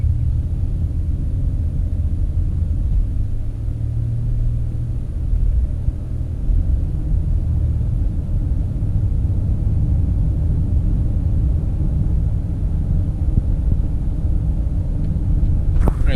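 A Honda car with a V6 engine drives and shifts up through all its gears, giving a steady low engine rumble and road noise throughout with no clear breaks.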